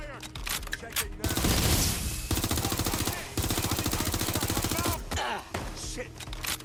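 Gunfire in the video game Watch Dogs Legion, with rapid automatic bursts that run in loud, dense volleys for several seconds, broken by short pauses and sparse single shots.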